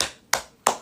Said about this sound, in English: I'm clapping for how bad that was